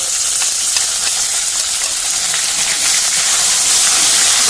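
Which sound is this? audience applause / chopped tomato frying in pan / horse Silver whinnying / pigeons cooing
chopped tomato frying in pan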